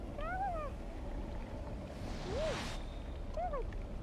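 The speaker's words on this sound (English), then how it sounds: "There's a kitty over there." Three plaintive cat meows from a video game, spaced a second or two apart, sit over a soft steady background hum with a brief whoosh in between.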